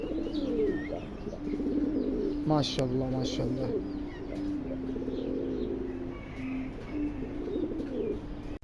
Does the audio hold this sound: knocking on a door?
no